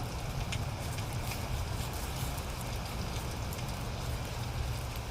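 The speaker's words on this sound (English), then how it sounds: "I love hiking through the woods when it's raining." Rain patters steadily in the woods during a thunderstorm, a constant soft hiss of drops with a low rumbling undertone, faint and unbroken throughout.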